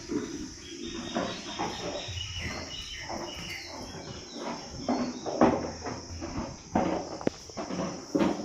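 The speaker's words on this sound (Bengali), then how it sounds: "উঠছি আস্তে আস্তে সিঁড়ি বেয়ে।" Footsteps climbing stairs slowly up to a village rooftop, a series of soft irregular steps close by, with insects chirping and occasional birds in the background.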